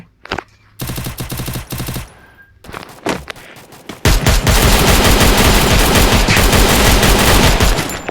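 Automatic gunfire in the video game Free Fire: a short rapid burst, a few scattered single shots, then a long sustained barrage of loud, dense rapid fire close up.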